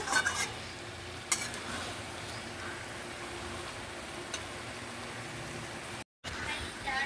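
Spiced potatoes sizzle as they are stir-fried in a pan, giving a steady, even hiss with a few faint clicks of stirring and one brief dropout near the end.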